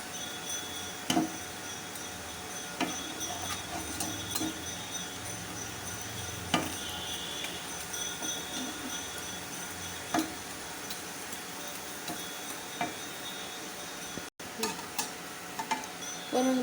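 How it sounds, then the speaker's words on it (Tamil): Asafoetida frying in a pan while making idli podi, a steady soft sizzle with light stirring and occasional sharp taps of a utensil against the pan, no talking. "இந்த பெருங்காயத்தை ஃபஸ்ட்டு பொரிச்சிக்கிட்டு அப்புறமா மிளகா போட்டு வறுத்து எடுத்துக்குவோம்."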